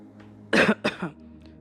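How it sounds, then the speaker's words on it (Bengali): A single close cough in two quick bursts, followed by quiet. "অতঃপর আমি একটা কাশি দিয়ে বলতে শুরু করলাম"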